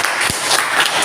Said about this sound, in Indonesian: Kita berikan aplaus yang meriah buat kelompok 4 Tiara.